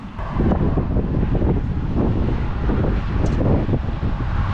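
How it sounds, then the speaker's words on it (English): Strong outdoor wind buffeting a microphone beside a C-Dory 24 TomCat boat, a loud, steady roaring rumble with gusty surges throughout and no speech. "Whoa, wind got me good."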